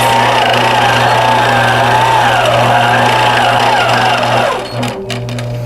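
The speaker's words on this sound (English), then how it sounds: "keep my needle down, turn my machine on, sneak up to where the top is, and start going backwards." A laser-guided sewing machine quilts backwards along a paper pantograph, its loud steady motor hum and rapid stitching running continuously up close, then easing slightly in pitch and level near the end.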